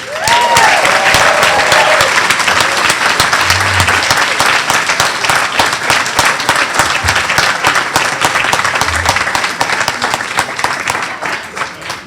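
Loud, sustained applause at a leadership awards ceremony for a couple receiving a business leadership award. The clapping continues steadily for about twelve seconds, with faint voices underneath.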